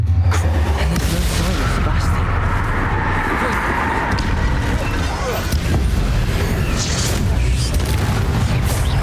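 Confringo spell blasts in Hogwarts Legacy on Nintendo Switch, a loud, continuous rumble of booming explosions and crackling bursts filling the whole stretch with no letup.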